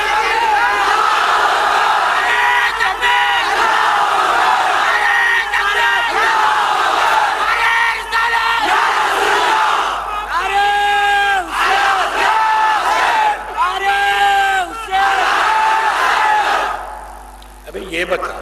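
A large crowd at a religious speech in Hyderabad chants slogans in loud, rhythmic unison, with repeated surging shouts and cries that dominate throughout before fading at the end.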